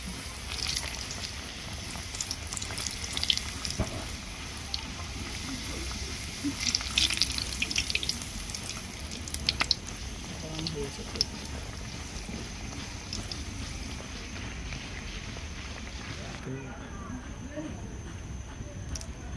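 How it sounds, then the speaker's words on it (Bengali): Pea and asafoetida kachori fry in oil over low heat, giving a steady soft sizzling hiss with occasional small crackles, while a person talks over it. "আমরা যে বেলে নিয়েছি কচুরিগুলো তেলের মধ্যে দিয়ে দিব"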